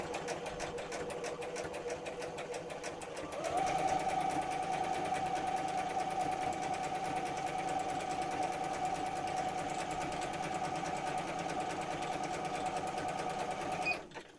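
A sewing machine stitches a zigzag on a fabric needle book cover with a fast, steady mechanical whir. It runs continuously and close by for about ten seconds, then stops abruptly.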